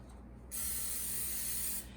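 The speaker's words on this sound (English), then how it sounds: "we're going to take an 8-inch spring-form pan, and we're going to spray it with Pam first" A steady hiss of Pam cooking spray into an 8-inch springform cake pan lasting over a second, close by, starting and stopping abruptly against a quiet background.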